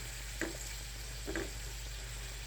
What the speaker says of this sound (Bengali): কষানো হয়ে গেলে কেটে রাখা টমেটো কুচিগুলো দিয়ে মশলাগুলোকে আরও কিছুক্ষণ কষিয়ে নিব।